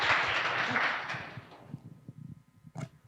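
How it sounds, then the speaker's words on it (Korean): An audience at a recruitment information session claps in a brief burst that fades out over about a second and a half, leaving quiet room noise and a faint voice. "박수 한번 이렇게 드리고 싶습니다"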